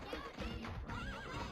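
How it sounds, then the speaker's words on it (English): A horse whinnies in the video game Patapon, a short wavering neigh from the horse-riding Kibapon unit set against rumbling game sound. "From the horse-riding Kibapon"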